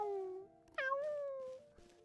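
A human voice imitates a cat's meow, giving two drawn-out, quiet meow-like cries, the second rising sharply before trailing off.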